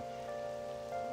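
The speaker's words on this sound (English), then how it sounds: "no, it's raining!" Steady rain falls in the game Persona 5 Royal, a soft continuous hiss on surfaces with game background music tones sustained above it, no voices.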